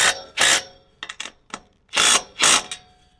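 A nut is run down onto a bolt on a high tunnel frame bracket with a power driver, giving several short close bursts of whirring with brief gaps between.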